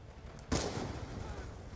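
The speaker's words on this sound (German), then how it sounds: "wir knallen jetzt mal die Drohnen hier ein bisschen ab" Gunfire at drones in the Black Ops 2 video game: one sharp blast followed by a sustained, rumbling burst of shooting, fairly quiet overall, with no talking.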